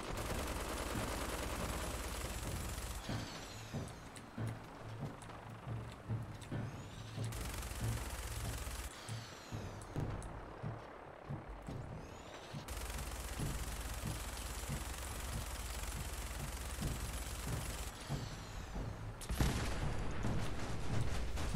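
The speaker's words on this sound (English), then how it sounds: "Gatling laser minigun." A Gatling laser minigun in Fallout 4 fires in long, loud sustained bursts, rapid rattling shots that stop and restart several times with brief pauses between.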